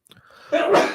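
A single sharp sneeze bursts out after a brief quiet inhale, close and fairly loud, with no talking.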